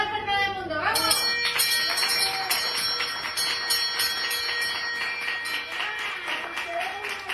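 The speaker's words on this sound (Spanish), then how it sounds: "Es una campana que se sitúa en la sala de quimio." A bright bell in a chemotherapy room rings repeatedly with shimmering, lingering tones, marking the end of a patient's treatment, while people talk and clap faintly in the background.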